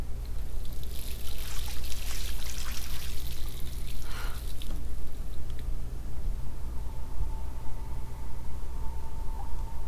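Water being used in the game Life is Strange: a steady pouring trickle runs for the first few seconds, then cuts out, leaving a low background hum.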